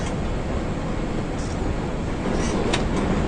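A train in a PC video game runs with a steady, loud, broadband rumble and rushing noise, marked by a couple of brief metallic clicks near the end.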